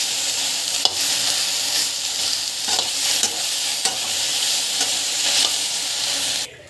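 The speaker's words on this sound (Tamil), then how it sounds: "நல்லா வந்து ஃப்ரை ஆகட்டும்" Okra frying in oil in a pan, with a steady loud sizzle and the scrape and clink of stirring recurring every second or so, with no talking.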